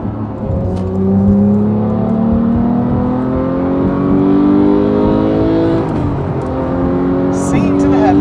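Porsche 991.2 911 GT3 engine revving hard on track, its rising and falling pitch sweeping loud and close through several climbs, with a brief shift dip midway, as someone talks over it.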